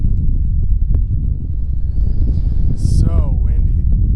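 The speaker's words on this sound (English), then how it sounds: "So windy." Strong wind buffets the microphone while bass fishing from a boat on a spring lake, a continuous low rumbling roar throughout, with brief faint higher sounds near the end.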